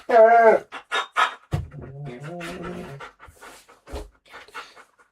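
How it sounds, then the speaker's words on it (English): A sulky pet dog whimpers and pants in a room during a live painting stream, with short high whines and breathy panting mixed among other background sounds, fairly close and moderately loud. "Hear my dog sulking in the background."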